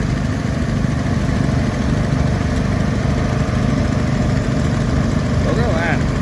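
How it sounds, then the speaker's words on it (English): A John Deere 185 ride-on tractor idles at a vintage tractor and stationary engine show, a steady close engine drone running throughout with a brief chirp near the end. "John Deere 185."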